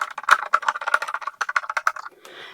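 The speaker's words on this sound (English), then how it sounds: "I'm just going to run this through my die cutting machine" Craft foam being cranked through a die cutting machine, a quick run of sharp clicking and rattling ticks close up, ending in a softer scraping rush.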